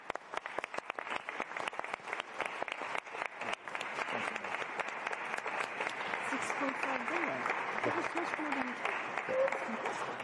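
A conference hall of donors bursts into a sustained round of applause, dense, loud clapping from a large crowd that continues for about ten seconds, with a voice speaking faintly beneath it.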